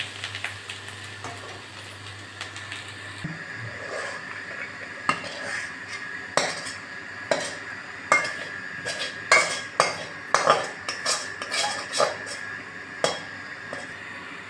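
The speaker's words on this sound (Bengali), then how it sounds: "ভাজাটা আমার হয়ে গেছে, আমি এবার নাড়িয়ে নেব।" Fried potato slices being stirred in a pan, with a run of sharp metallic scrapes and clinks of a utensil against the pan over a faint sizzle, growing more frequent toward the end, close by with no voices.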